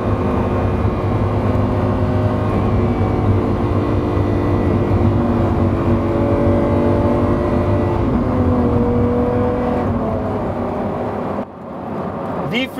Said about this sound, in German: Wie leicht sich der Wagen beim Beschleunigen anfühlt, das ist unglaublich.